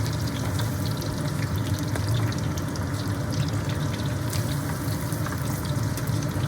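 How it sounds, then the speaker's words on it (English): French fries for poutine, already blanched and cooled, bubble in hot oil during their second fry, a continuous dense crackle and hiss that stays steady and close throughout with no talking. "we're gonna let those fry up until they're a beautiful golden color"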